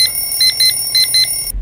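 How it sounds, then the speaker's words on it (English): An alarm clock beeps in a loud, steady pattern of short double pulses, repeating close and alone for over a second before cutting off abruptly. "Oh, that's the alarm."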